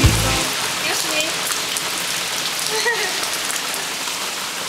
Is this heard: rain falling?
yes